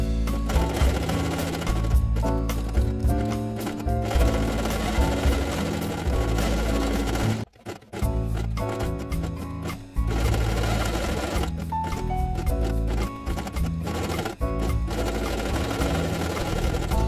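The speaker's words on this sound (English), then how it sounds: "sew the outer edge with orange thread" Sewing machine stitching the outer edge of a felt base page with orange thread, a loud, close motor hum with rapid needle chatter running almost continuously, broken by a few brief stops.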